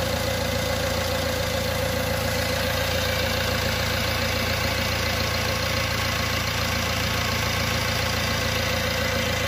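A freshly overhauled Mahindra Getaway 2.6 litre engine idles steadily, a close, loud, continuous mechanical drone with a faint knocking undertone and no break or speech throughout.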